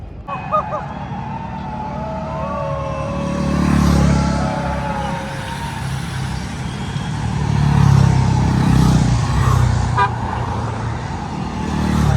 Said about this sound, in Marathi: फक्त पोलिसाच्याच गाड्या फिरत आहे